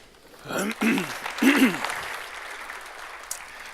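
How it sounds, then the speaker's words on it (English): Conference audience applause for a speaker at a talk on DNS hijacking. It is full at first, then thins and fades out, and a voice speaks briefly over the clapping. "I'm not sure that this is actually worth any applause."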